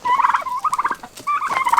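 A flock of turkeys gobbling loudly and close, two bursts of rapid warbling calls separated by a brief pause.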